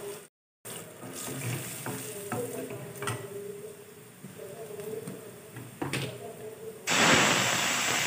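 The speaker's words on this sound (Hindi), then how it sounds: "तो यहाँ पे मैंने जीरा चटकाया और थोड़ा सा मैं सूखी मिर्च भी डाल दूंगी" Cumin seeds and dried chili sizzling in hot oil in a home kitchen while cooking dinner, a steady close crackling hiss with scattered pops, briefly cutting out near the start and swelling louder at the end.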